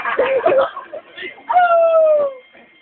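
A dog howls in a long, sliding tone after a stretch of overlapping voices, loud and close, then fades out.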